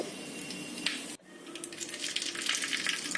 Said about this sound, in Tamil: கடாயில் எண்ணெய் சூடானதுக்கு அப்புறமா கடுகு,